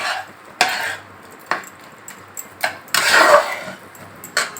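A spoon clatters and scrapes around a pot of banana stem curry with hilsa fish head after sugar goes in. Sharp, uneven metallic knocks and a longer grinding scrape sound close and fairly loud.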